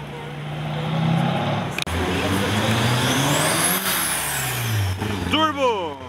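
A Porsche 911 992 sports car drives past loudly, its engine note rising as it nears and falling away in a clear Doppler sweep. Other traffic sound fills the street, and a brief squeal closes the pass.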